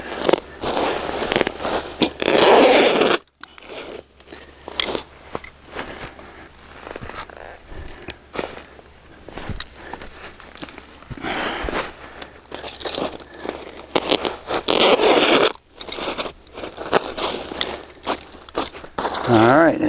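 Crinkling, crackling plastic greenhouse covering being cut to length during a greenhouse build, with bursts of rustling across the stretch and a few quieter gaps.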